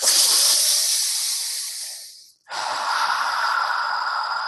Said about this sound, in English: we're going to do the ha breathing